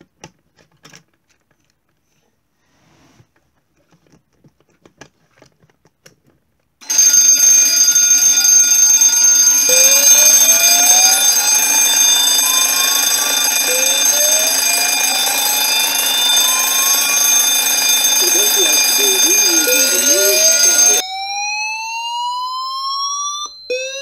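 Fire alarm system under test, set off from a manual call point: after a quiet start it bursts into a loud, continuous electronic alarm with repeating rising sweeps, sounding steadily alone for most of the clip.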